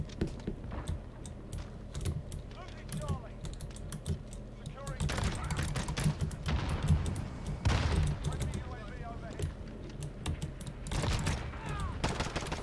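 Rapid gunfire in a first-person shooter game, bursts of sharp shots and rattling fire with clicking keyboard taps in between, while a player talks over much of it.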